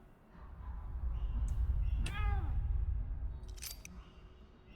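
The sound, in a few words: cat meowing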